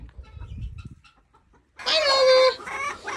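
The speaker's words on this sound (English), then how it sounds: "Oh, no, I still hear a guinea." Loud, harsh guinea fowl calls burst in after a quiet stretch on a farm, a raucous bird cry with ragged repeated notes, close by.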